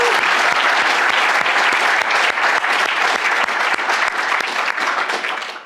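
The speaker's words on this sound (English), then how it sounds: "Let's give him a round of applause." Sustained audience applause at an evening university cleantech prize pitch competition, dense and even throughout with a few sharper claps standing out.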